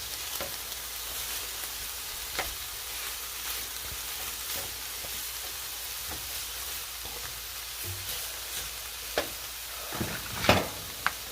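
Tomato paste sizzles steadily in a hot pan while a utensil stirs it, a soft continuous crackle with occasional scrapes and a few sharper clicks near the end; no one speaks.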